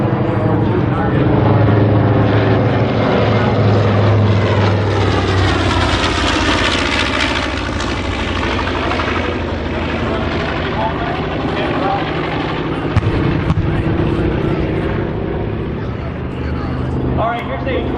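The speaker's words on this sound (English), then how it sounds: "Get a low pass from the A-26 Avenger." A Douglas A-26 bomber makes a low pass at an air show, its loud piston-engine roar swelling to a peak mid-pass and then fading, with crowd and commentator voices heard underneath.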